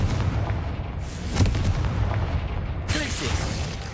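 Confringo blasting spell explosions in Hogwarts Legacy, a dense, rumbling barrage of booms and bursts over continuous combat noise, with a sharper crack partway through and another burst near the end.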